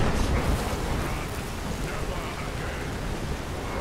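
Storm Call shout summoning a thunderstorm in the video game Skyrim, a dense steady roar of rain and storm noise filling the whole moment, loud and continuous with no distinct strikes and no talking.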